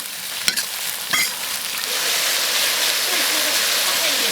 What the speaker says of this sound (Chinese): 咱这个炒香了啊，把牛肉下进来